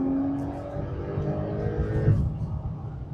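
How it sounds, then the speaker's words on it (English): Porsche 992 Turbo S launching hard from a standstill and accelerating, a loud, close engine roar climbing steadily in pitch over about three seconds with a brief surge near the end. "An unbelievably powerful car. It launches so hard and so visceral."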